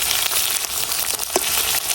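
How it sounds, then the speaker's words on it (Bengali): Hidol, a fermented fish, fries together with onion and garlic in a pan, giving a steady, close, continuous sizzle with no talk. "এই যে আমার হিদল পেঁয়াজ রসুন সবকিছু কিন্তু মোটামুটি এই যে ভাজা হয়ে গেছে।"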